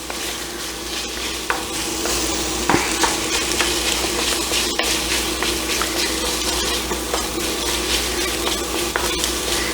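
Jalapeno, garlic and onions sizzle in a chili pot with a steady, close frying hiss, broken by a few soft stirring knocks. No voices are heard.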